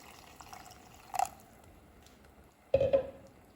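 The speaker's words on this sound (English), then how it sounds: "add about 2 cups of water to that as well." Water poured into a pot of spicy pumpkin stew with blended Roma tomatoes, two short separate splashing pours, the second louder and longer, heard close up against a quiet background.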